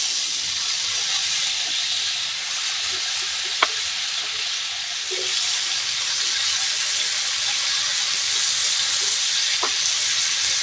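Vegetables fry in a pan for a home-style Bengali dish with a steady, close sizzle and hiss, broken by a few faint clicks of stirring and no talking.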